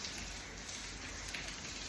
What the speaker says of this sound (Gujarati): વરસાદ આજે ચાર વાગ્યાથી વહેલો ચાલુ થયો છે અને અત્યારે પણ વરસાદ ચાલુ છે